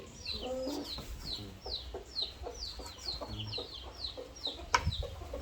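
Chickens cluck in a rapid, repeated series of short calls, fairly close but soft, with a low rural background and no speech.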